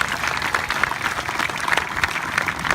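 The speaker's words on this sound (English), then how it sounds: "clap for that, and I'll explain why." Kids at a baseball camp break into steady, dense applause, a continuous wash of clapping filling the room from start to finish with no voices rising above it.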